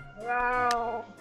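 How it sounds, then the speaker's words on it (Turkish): A cat meows once in the Minecraft video game, a single drawn-out, clear in-game mew standing alone with no talk over it. "Kedi sesi."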